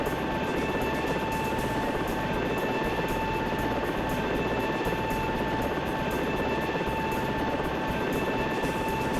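A helicopter in the video game Search and Rescue 4 holds a hover, its rotor chopping in a fast, steady pulse over a continuous turbine whine and drone that stays loud and even throughout, with no voices.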